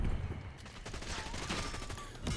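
Rapid gunfire from the Grekhova pistol in a video game, a fast continuous burst of shots over busy game noise, moderately loud for the whole short stretch.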